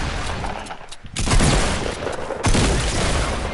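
Video game gunfire on PS4 crackles in dense, loud volleys, easing briefly before two heavy bursts erupt, the second sharper and louder, with no talk over it.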